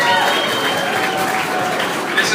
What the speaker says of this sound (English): we owe a round of applause to Stacy Quo and Casey Lee